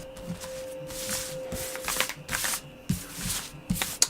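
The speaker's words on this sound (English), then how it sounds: "So as I sort of shuffle the cards, I'm trying to connect with you." Tarot cards are shuffled close up in quick riffling bursts, papery rasps and soft slaps repeating in an uneven rhythm of short pulses for several seconds.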